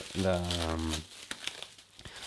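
Paper wrapping crinkles and tears as a Nokia phone package is unwrapped, the rustling close and continuous; someone speaks over the first second, then scattered crisp crackles and rips continue alone.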